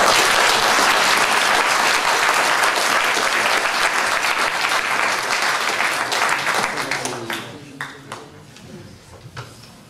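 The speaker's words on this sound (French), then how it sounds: "merci de vos applaudissements" Loud, sustained applause from an audience at a French political roundtable after a speech, dense clapping that fades over the last few seconds into scattered isolated claps.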